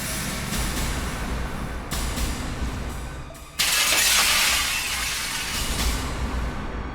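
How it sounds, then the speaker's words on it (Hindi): Window glass shatters with a sudden loud crash partway through, a bright burst that decays into lingering tinkle over a noisy, rumbling background. "इसलिए मैंने वो कांच तोड़ा था।"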